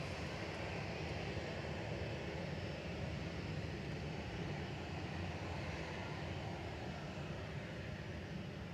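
A Boeing 737 jet airliner with CFM56 engines at Manchester Airport gives a steady, broad engine roar, fairly faint and distant, holding even throughout with no voices.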